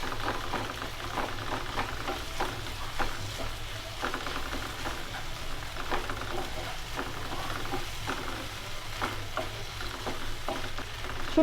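Dried chepa shutki fish frying in a pan with spinach-leaf curry, stirred steadily; a continuous close sizzle with scraping stir strokes throughout and no talk.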